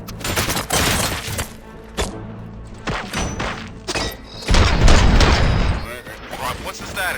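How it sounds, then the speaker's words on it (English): Gunfire in the video game Robocop Rogue City: scattered sharp shots and a heavier sustained burst, mixed with thuds and game sound, under voices. "Gunshots? What's going on?"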